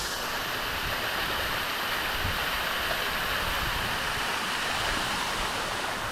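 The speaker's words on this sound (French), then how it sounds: "L'eau qui tombe est beaucoup plus fraîche que celle qui est déjà tombée." A 40-metre waterfall in Nicaragua pours down without a break, giving a steady, loud broadband rush of falling water that fills all six seconds with no speech.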